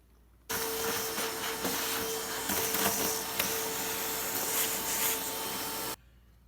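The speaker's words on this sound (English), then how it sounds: "I'm going to take about 5 gallons of shop vac and see if we can clean up some of this mess under there" A shop vacuum cleans up mess beneath a square-body S10 pickup truck, switching on abruptly and running at a steady, close whine for about five seconds before cutting off.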